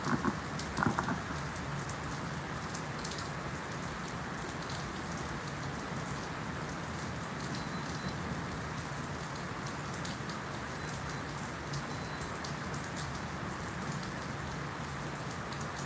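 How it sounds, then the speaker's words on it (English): Heavy rain falls steadily onto surfaces at a ballpark, a dense continuous hiss and patter that stays even from start to finish, with no voices. "And this game is being postponed as the rain comes down."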